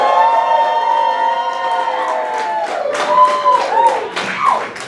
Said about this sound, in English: And if you think it's treasure, make some noise for Jazzy Ray.